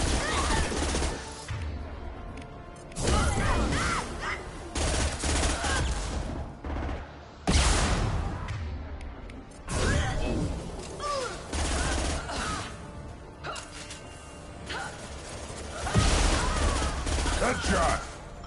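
Video game gunfire from Mass Effect 2: loud, dense bursts of rapid shots and impacts in several long volleys separated by brief pauses, with a player's voice occasionally heard among the firing.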